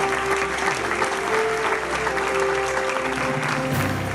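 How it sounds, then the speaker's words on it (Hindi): Steady, dense applause from a large audience at an Oxford University convocation ceremony, continuous and even throughout with a faint sustained tone underneath. "तालियां बज रही हैं ऑक्सफोर्ड यूनिवर्सिटी के दीक्षांत समारोह में।"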